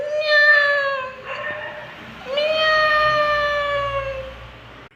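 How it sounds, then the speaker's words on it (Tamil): A cat meows twice, two long, clear, drawn-out cries close to the microphone, separated by a short pause, over a faint background hum. "பூனை."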